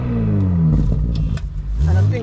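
Close behind a Porsche Cayenne 3.0 Turbo S E-Hybrid, the sport exhaust with its valve open revs loudly with a raspier, crackling engine roar that surges twice, with a voice briefly heard.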